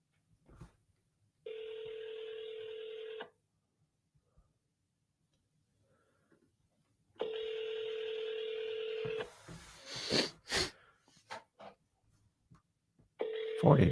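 Telephone tones sound while a call is placed to a cash buyer for real estate wholesaling: two long steady ringback tones separated by silence, then brief quick beeps and a third tone starting at the end, all fairly faint and clear.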